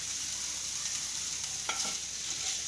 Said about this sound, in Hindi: मैं बेबी कॉर्न को फ्राई कर रही हूँ। 1 टीस्पून मैंने ऑयल डाल दिया है।